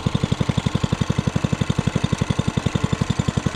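A cheap Amazon mini bike's small engine runs on choke, a steady rapid thumping putter with an even rhythm, loud and close with no talk over it.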